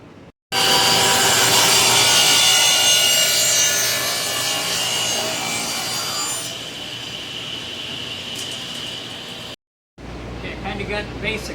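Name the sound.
table saw ripping maple wood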